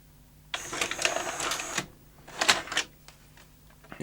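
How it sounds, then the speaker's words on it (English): Sony Betacam SP professional video recorder with a faulty tape mechanism snagging the tape, making two close bursts of whirring, clicking mechanical chatter separated by a short quiet gap. "No, that's not right at all. It's snagging the tape."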